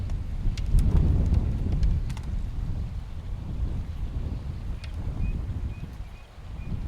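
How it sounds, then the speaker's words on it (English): Gusty wind at a riverside RV campsite, a steady low roar that swells loudest early and then eases into a continuous rushing buffet, with no talking. "Wow, the wind is picking up."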